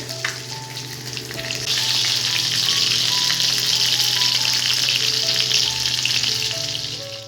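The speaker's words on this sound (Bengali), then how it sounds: "আর এদিকে তো মাছ ভাজা চলছে" Fish frying in a pan sizzles steadily and fairly loudly, swelling after the first moment and holding even, with no talk over it.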